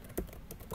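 A few quick, faint keystrokes tap on a computer keyboard while entering a name into an Excel spreadsheet.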